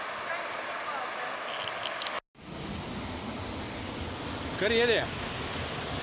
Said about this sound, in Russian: Но шум водопада слышно здесь.